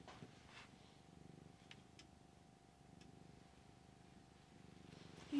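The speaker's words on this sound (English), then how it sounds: "I think you can kind of hear the kitty purrs" A cat purrs softly in a steady, pulsing rumble, faint and close, with a few light ticks and clicks around it.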